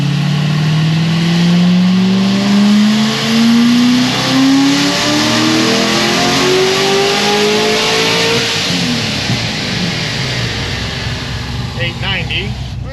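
A supercharged Stage 5 C6 Corvette Z06 on a dyno runs a pull, the engine climbing steadily in pitch as it revs hard and loud for several seconds before backing off, with a whine over the roar.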